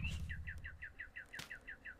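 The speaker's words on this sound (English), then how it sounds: "Oh, I hear a bird." A bird in the snowy world of the game Vintage Story gives a rapid, even series of about a dozen short, thin chirps, faint and alone over a quiet background.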